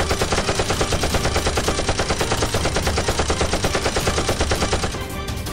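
Rapid gunfire from an action film fought with Nerf guns rattles loudly in a fast, even rhythm for about five seconds, then cuts off abruptly.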